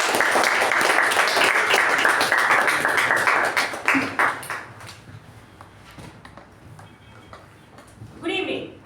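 Audience applause welcoming the Master of Ceremonies at a Toastmasters club meeting. Loud clapping fills the room for several seconds, then thins into scattered claps and shuffling, and a voice speaks briefly near the end.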